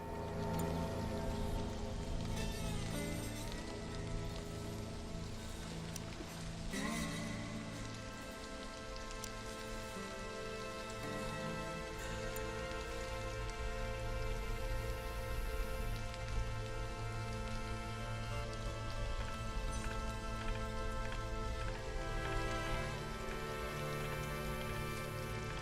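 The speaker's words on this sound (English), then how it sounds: "I understand that there's rain" Steady rain in the colony-building game Stranded: Alien Dawn, a dense continuous patter that holds throughout with game music layered over it and no talk.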